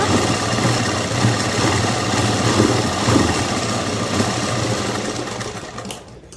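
A sewing machine stitching the underarm seam of a dress, a loud, steady mechanical hum with fast needle chatter running continuously and stopping abruptly near the end.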